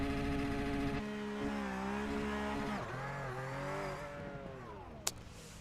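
A Mazda MX-5 in a sim racing game at Brands Hatch, holding a steady high-revving engine drone at a standing start before the pitch dips and climbs again, with a sharp click near the end.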